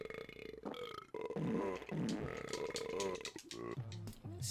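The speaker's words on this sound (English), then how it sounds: "every jingle can be apparently improved by burping and farting." Long, loud, gurgling burps sound over a Crash Bash video game jingle, with several belches in a row interrupting the music.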